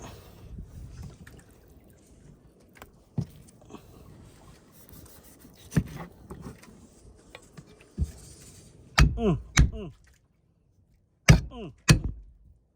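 Several sharp, heavy knife chops strike through hard pork bone near the end, separated by short pauses, after a stretch of scraping and rubbing sounds.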